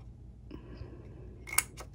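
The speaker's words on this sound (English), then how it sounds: "So I just need my scissors" Scissors cut cardstock for a candy bar treat box, with a faint rustle followed by a couple of sharp close snips near the end.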